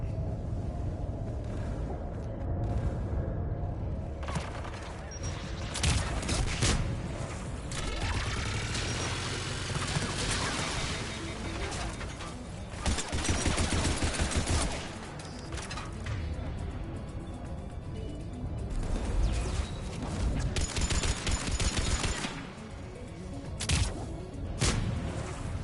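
Turrets fire in a battle in the game Mass Effect Legendary Edition: dense, loud bursts of shots and booms repeat across the scene, with mechanical clatter and surging combat noise throughout.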